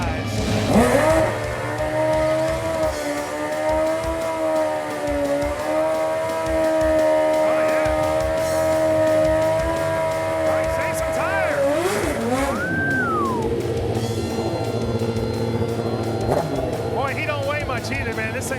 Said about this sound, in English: the burnout never lies